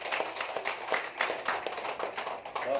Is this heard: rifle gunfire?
no